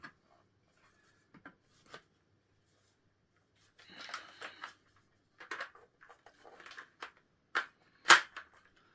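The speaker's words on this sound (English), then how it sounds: "See what it's like with a magazine in it." Plastic airsoft gun handled during an unboxing as its magazine is pushed and worked into the well, giving a series of short, close clicks and rattling scrapes in irregular bursts, with quiet gaps between them.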